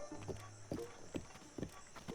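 Hooves of a giant horse in the video game Zelda Breath of the Wild clop in an even walking rhythm, about five soft, distinct steps, faint and close with no other sounds.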